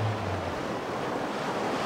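Ocean waves surge and roar during a storm flood, a dense, steady rush of surf with wind noise, loud and continuous with no voices.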